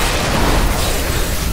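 Dense, loud explosions from the Diablo III video game, a continuous rumbling barrage of booms and bursts with no gaps, filling the whole moment.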